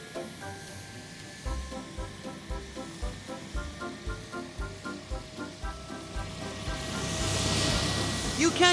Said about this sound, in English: The helicopter is bringing Ethan